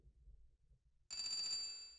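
An electronic telephone ring from the video game Tomba starts abruptly after a near-silent second, a steady bright trilling tone that continues to the end.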